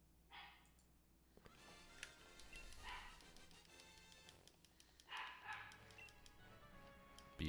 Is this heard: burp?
no